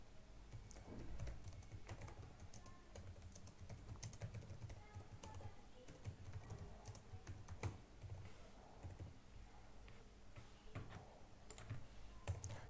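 Fingers type on a computer keyboard while a short Java program is written, producing steady, close clicking keystrokes in irregular bursts with a low background hum.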